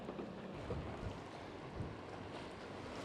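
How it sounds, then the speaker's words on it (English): Wind blowing across Lake Erie around a fishing boat, a steady low buffeting rush with gusty thumps against the microphone and faint water movement, no voices. "it's windy. The wind shifted big time out of the west."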